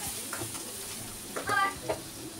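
Masala with potato, onion and tomato for a bhetki fish curry fries in oil as it is stirred, giving a soft continuous sizzle with a few brief scraping bursts, close and quiet.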